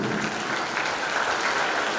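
Steady, fairly quiet applause from the audience at a karate championship event, many hands clapping in a continuous wash.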